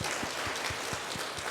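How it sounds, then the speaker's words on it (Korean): Congregation at a Sunday worship service claps in encouragement, a short burst of steady, moderately loud applause with a few distinct claps. "우리 격려의 박수 한번"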